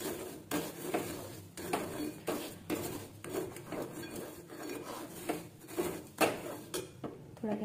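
Sugar melting in a pan for til vadi is stirred steadily, giving a close, repeated scraping and rasping of a utensil against metal about once a second, moderately quiet.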